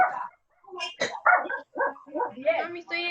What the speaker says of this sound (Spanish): Oh, callen ese perro